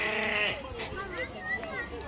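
Sheep bleat outdoors in Guinea, a few wavering, nasal cries overlapping in quick succession, fairly close and moderately loud.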